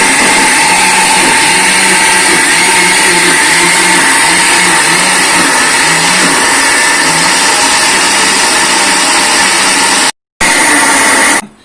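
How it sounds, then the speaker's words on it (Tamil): A wet grinder churns idli batter in a steady, loud motorized drone with a faint rhythmic low thumping, cutting out briefly near the end before resuming. "இப்போ நான் அரைச்சி உங்களுக்கு அதை காட்டுறேன்."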